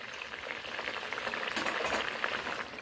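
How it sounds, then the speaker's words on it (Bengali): Rui fish curry sauce in mustard oil boils uncovered on a medium flame, a close, steady bubbling sizzle without pause. "ঝালের জুসটা আমার ফুটে উঠেছে"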